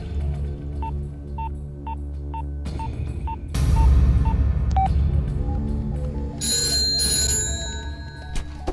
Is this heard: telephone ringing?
yes